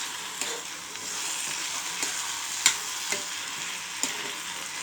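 Spice masala sizzles softly in oil in a pan for a potato-tomato curry, a steady fine hiss with a few light clicks and scrapes of a spoon stirring now and then, no voices.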